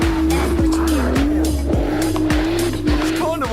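Engine of a GTR sports car droning steadily with sharp, repeated tire squeals as it is driven hard around a back garden, loud and near the whole time, no talking.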